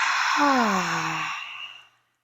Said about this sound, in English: you can take a deep inhale. Exhale, open mouth.